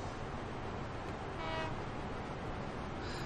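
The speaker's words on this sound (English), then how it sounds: "There goes our cargo trains." Cargo trains roll past in the Train Fever video game, a dense steady rumble of wheels and cars with a brief horn-like tone in the middle, continuous and moderately loud with no talk.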